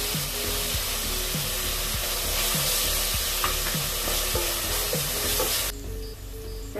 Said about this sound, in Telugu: ఆయిల్ పైకి వచ్చే వరకు టమాటో ఫ్రై చేసుకోవాలి.